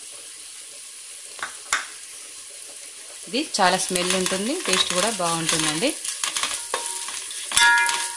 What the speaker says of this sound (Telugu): వేయించుకోవాలి దీన్ని కాసేపు